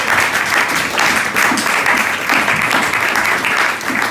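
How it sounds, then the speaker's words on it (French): A church congregation at a Sunday service claps together in sustained, even applause, loud and close, with no talking over it. "Acclamons encore le Seigneur, acclamons le roi des gloires."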